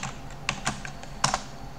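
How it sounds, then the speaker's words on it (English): Commands being typed on a computer keyboard, soft scattered clicks and a few sharper key taps, close and quiet, with no talking. "I keep typing the commands on my computer shell"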